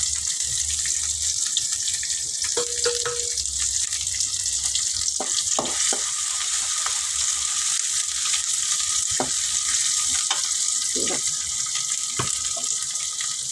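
Shallots and curry leaves sizzle steadily in hot oil for a Tamil brinjal kadasal dish, a loud continuous frying hiss with occasional stirring clinks and scrapes.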